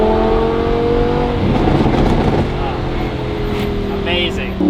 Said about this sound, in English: this is how your Huracan, whether LP580 or 610, will sound with this exhaust